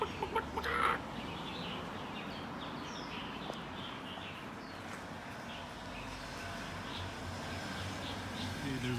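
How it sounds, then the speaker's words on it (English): Chickens in an old village in Dongguan, China give faint, scattered clucks against a quiet, noisy outdoor background, with one slightly louder call near the start. "And these are ancient chickens."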